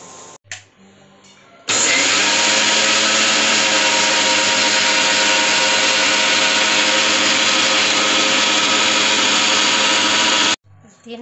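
A mixer grinder loudly grinds roasted millet, gram dal and sugar in a steady, high-pitched whir that runs about nine seconds without pause, after a few brief starts and clicks.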